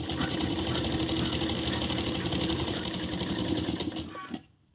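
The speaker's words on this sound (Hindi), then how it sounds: "आप इस पे 2 बार भी सिलाई चला सकते हैं।" A sewing machine stitches a blouse seam, a steady close rapid mechanical whirr running almost unbroken before it stops near the end.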